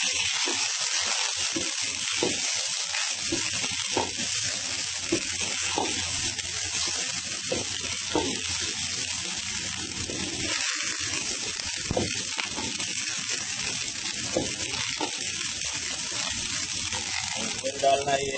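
Ground garlic sizzles steadily in hot oil in a pan for garlic chicken, a loud continuous close hiss with occasional stirring scrapes.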